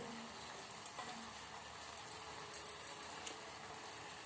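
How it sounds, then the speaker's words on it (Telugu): Curry leaves hitting hot oil with fried green chillies give a faint, continuous frying hiss with a few small crackles and pops, quiet and steady throughout with no talking. "అవి గోలిన ఇప్పుడు కళ్యమాకు వేసుకుంటున్నా"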